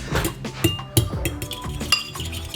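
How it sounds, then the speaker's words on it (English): Three eggs cracked into a bowl in a home kitchen, heard as a series of sharp clinks and taps against the bowl's rim, close and fairly loud, with no talking. "Then you get a bowl, crack 3 eggs into it, season with salt and pepper."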